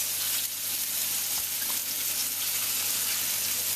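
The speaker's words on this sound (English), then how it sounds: "So I'm just going to sprinkle some onions." Onions frying in a pan, a dense, steady sizzle heard up close and fairly loud throughout, with a few faint knocks and no speech.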